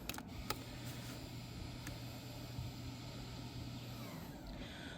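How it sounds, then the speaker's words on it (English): The electronic parking brake motor of a 2020 Hyundai Palisade winds in a faint, steady low whir for about four seconds, with a few small clicks at the start. "I don't know if you heard that, the motor was winding"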